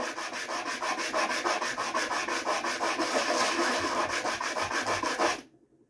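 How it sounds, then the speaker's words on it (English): A blue calcite gemstone is ground flat by hand, pressed down and rubbed back and forth in a steady, rhythmic rasping scrape that stays close and loud for several seconds before stopping abruptly. "press it straight down, grind it back and forth, do a little circle every now and then"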